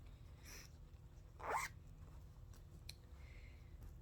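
A quick zipper pull on a small lined sewn bag around the middle, a short rasping zip close to the ear, with faint rustles and ticks before and after in a quiet room.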